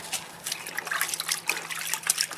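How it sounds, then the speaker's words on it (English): A sheet of sandpaper is dunked and swished in water before wet sanding car paint, giving short sloshing, trickling splashes close by. "I'm gonna dump it in the water and make it damp"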